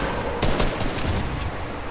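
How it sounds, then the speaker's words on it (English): A flintlock pistol in a video game fires in a short burst of sharp cracks that stand out loudly against steady background noise, with no voices over them. "I've just hit a headshot with the flintlock pistol"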